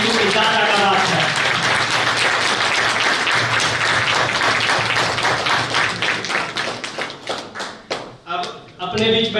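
Loud, dense applause from an audience of therapists and students honouring an elder at a gathering, sustained clapping that thins into scattered individual claps near the end, with some voices mixed in.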